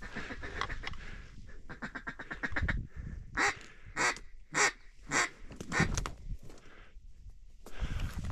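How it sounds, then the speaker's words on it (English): Mallard ducks, including a drake, quacking over a public land pothole during a duck hunt, a series of loud, evenly spaced quacks in a steady rhythm close by, with a rustling outdoor background. "I think it's a Drake mallard."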